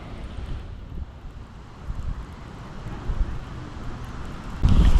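Gusty wind by a pond at night buffets the microphone with low rumbling, rising and falling in strength and growing harder near the end, with no voices.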